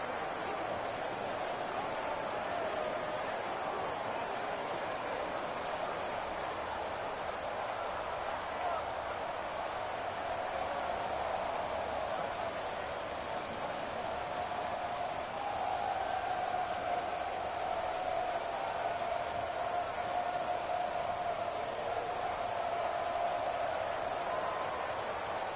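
Steady rain hiss from a rainy Madden 22 football video game, continuous and broadband across the whole stretch, with crowd-like ambience and a sustained tone rising midway.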